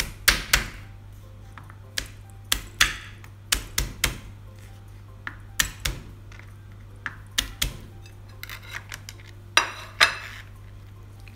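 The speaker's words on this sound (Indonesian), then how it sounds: "Lalu dicincang halus" A very sharp Stand cookware knife finely chops smashed garlic cloves on a board, making close, sharp knocks at an irregular pace with short pauses over a low steady hum, with no one talking.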